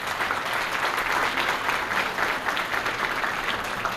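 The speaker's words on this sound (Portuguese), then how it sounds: "Nosso muito obrigado, a nossa salva de palmas." Steady, dense clapping from a large audience at a graduation ceremony, loud and sustained throughout with no pauses.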